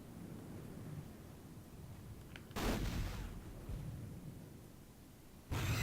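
A long-range shot fired in the Hogs of War video game gives a deep, booming blast, followed a few seconds later by a second burst over a constant low rumble of game ambience.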